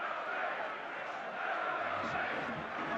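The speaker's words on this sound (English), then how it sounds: "Decent crowd in here at the old Sinsel Bank, LNER Stadium." Football crowd at Lincoln City's LNER Stadium, Sincil Bank, during a match against Charlton, a steady distant murmur and chanting from the stands under a commentator's voice.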